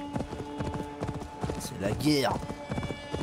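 Horse hooves clip-clopping in a steady rhythm in Assassin's Creed Valhalla, with a neigh rising midway, under someone talking and game sounds.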